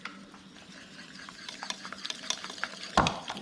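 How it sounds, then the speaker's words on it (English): A whisk works a coconut cream mixture in a bowl, producing quick, light scraping and tapping strokes that grow busier, ending with a sharper clack, close and fairly quiet. "I'm gonna whisk it good to break up that coconut cream."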